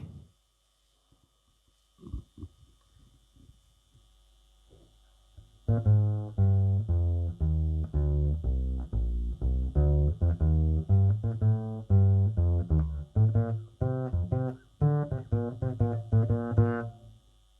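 A bare, dry double bass plugged straight into a DI plays a plucked line, low round notes in quick succession after a few seconds of near silence, clean and close.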